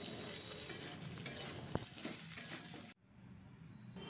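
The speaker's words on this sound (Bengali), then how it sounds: "দিয়ে ভালোভাবে নেড়ে নেব" Carrots and soybeans fry and are stirred in a pan, giving a steady close sizzle with scraping strokes of a spatula, before the sound drops suddenly near the end.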